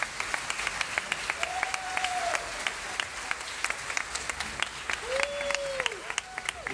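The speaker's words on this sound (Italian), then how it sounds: "Un applauso a tutti voi." Scattered clapping from an audience at a charity evening in Cesena, fairly quiet and uneven, with whistles rising over it twice and crowd murmur underneath.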